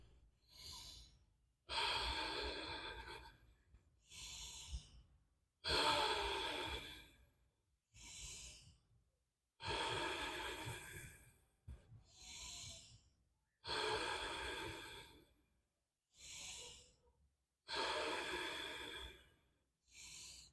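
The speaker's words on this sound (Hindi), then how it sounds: "शवासन में आराम से लंबी गहरी सांस लेंगे और छोड़ेंगे।" Slow, deep breaths during shavasana yoga relaxation, about nine long, airy inhale-exhale cycles separated by quiet pauses, close and soft.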